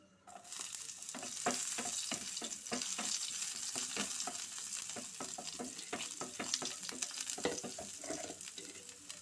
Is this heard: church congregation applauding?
no